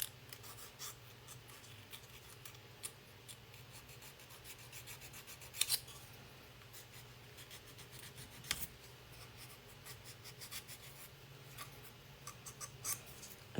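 Soft, intermittent scraping and rasping of a small abrasive stick rubbing on wood, close by and quiet, with a few sharper scratches.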